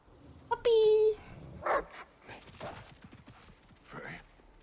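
A dog in the video game God of War Ragnarök gives a short whine or bark amid game sounds and footsteps, with a person speaking over it.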